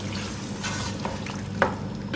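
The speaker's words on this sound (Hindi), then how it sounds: "भूनेंगे इसको।" Meat pieces with half a cup of yogurt fry in a pot for UP-style pulao, giving a soft, steady sizzle with occasional stirring scrapes and one sharper utensil knock.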